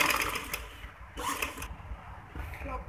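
A sewing machine stitches a frock in short bursts of rapid whirring, pausing and restarting about three times, fairly quiet and close.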